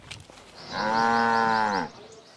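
A cow lets out a single long, loud moo close by. The low tone holds steady for about a second before trailing off into quiet surroundings.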